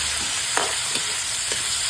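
Onion and garlic sautéing in a pan with tomato going in, a loud close sizzle with a few scraping stirs, and no one speaking.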